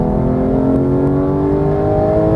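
A loud Porsche GT3 engine revs and climbs in pitch as it accelerates hard on a Las Vegas track, a smooth continuous roar close by.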